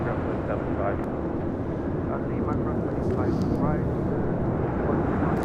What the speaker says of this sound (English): It's flight 646 coming from Mexico City at the 787-8 Dreamliner.